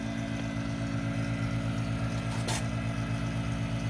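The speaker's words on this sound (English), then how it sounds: "that's the pump up to the tank. It's a walkie wall pump" A Walkie Wall pump sending water up to a 120-gallon saltwater aquarium, running nonstop for over ten years, drones as a steady, loud motor hum with a pulsing low throb, plus a short hissing burst midway.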